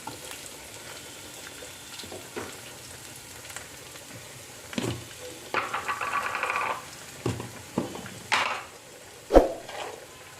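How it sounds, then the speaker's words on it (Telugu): Chopped onion dropped into hot oil with mustard seeds and cumin, a quiet sizzle with scattered crackles and a few louder bursts of frying and utensil knocks. "ఇప్పుడు ఇక్కడ తరిగి పెట్టుకున్న ఉల్లిపాయ వేస్తున్నాను"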